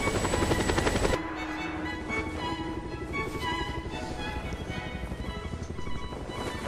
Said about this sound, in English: I'm the helicopter that's lifting up right now.